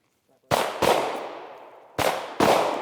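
Four sharp handgun shots fired during a backing-up drill on a shooting range, two close pairs spaced about a second and a half apart, each loud crack trailing off in echo.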